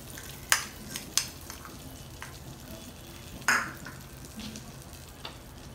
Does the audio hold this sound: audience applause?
no